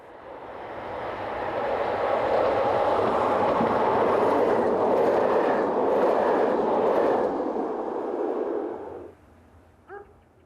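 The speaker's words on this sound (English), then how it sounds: "On 15th October 2004, AM96 Intercity Unit 482 heads the 1031 from Lille to Herstal." AM96 Intercity electric unit 482 passes on the line at Fleurus, rising into a loud sustained rumble with rail clatter that holds for about nine seconds, then drops away abruptly, leaving a brief click or two.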